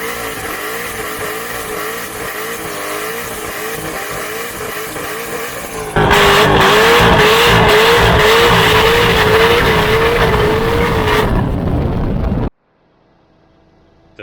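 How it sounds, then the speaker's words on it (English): A Corvette with a cammed LS V8 doing a burnout: a loud, choppy idle lopes steadily, then jumps to a harsh, sustained high-rev roar with tire squeal for several seconds before cutting off abruptly to near silence. "Oh, I'm planning on doing a burnout with it."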